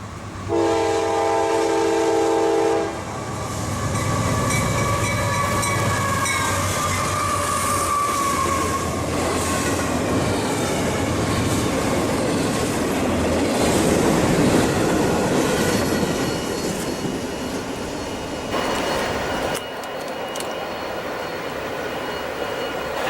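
A CSX freight train led by a locomotive rolls past at speed, a horn blast sounding at the start, then a long steady roar of wheels and railcars that stays loud and near before cutting off sharply near the end.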